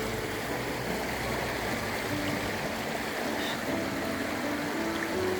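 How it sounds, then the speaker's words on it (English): A bubbling stream at Narracan Falls, a steady, close rush of water trickling and gurgling over rocks at an even level throughout. "bubbling part of the stream"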